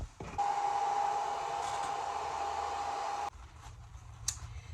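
A hair dryer blows steadily on Mod Podge during a furniture makeover, giving a loud, continuous whir with a high whine that cuts off abruptly about two-thirds through, leaving quiet room noise and a faint click.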